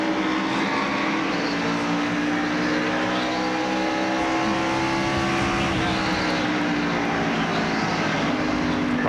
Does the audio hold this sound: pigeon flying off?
no